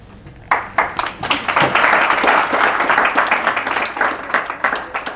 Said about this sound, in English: these are not real claps